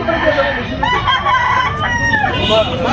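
Rooster crowing amid the clamor of a busy chicken market in Tabunok, Talisay, Cebu, with several bird calls overlapping under constant crowd noise and nearby chatter.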